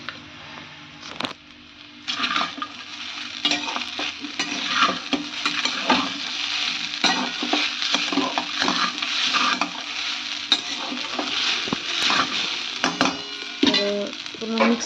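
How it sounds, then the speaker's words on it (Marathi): Sabudana khichdi is stirred in a frying pan, a spoon scraping and clattering through the sizzling tapioca pearls in repeated strokes, close and fairly loud with a steady fry hiss underneath. "तर पूर्ण मिक्स करून घ्यायचं."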